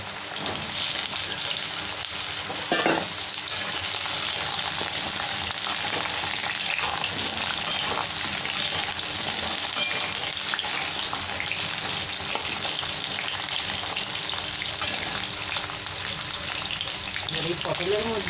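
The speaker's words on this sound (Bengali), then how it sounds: "পটলগুলো খুব ভালো করে ভেজে নেব।" Halved small pointed gourds (potol) fry in white oil in a wok with a steady, close sizzle and bubbling. The frying runs throughout, with a brief clatter near the start and a stir toward the end.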